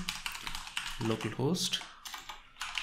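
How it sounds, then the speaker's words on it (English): Computer keyboard typing: quick, close clicking keystrokes tapping in steady runs while someone talks over them. "So I'm just going to type in HTTP"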